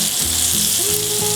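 Steak frying in a pan with butter and garlic, a steady close hiss of sizzling fat filling the whole short stretch, with low tonal hum lines underneath and no talking.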